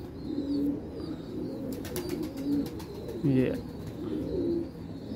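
Rampuri pigeons give several low, soft coos spread across the stretch, mixed with background chatter and faint chirps.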